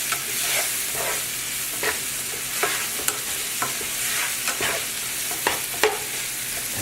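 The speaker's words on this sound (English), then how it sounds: "take the tomato sauce, add it to this, and then we're going to do a nice slow, steady boil" Chicken in tomato sauce bubbles and sizzles in a pan with a continuous hiss, punctuated by repeated short pops and stirring clicks, close up with no talking.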